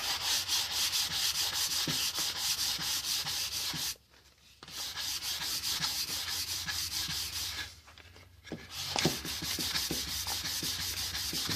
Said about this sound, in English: I will get my 600 grit sandpaper and start sanding it